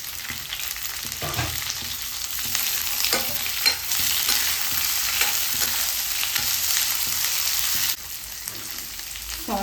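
Carrots and corn fry in a pan for corn fried rice, a continuous loud sizzle with occasional spatula scrapes and knocks close up, and no one speaking.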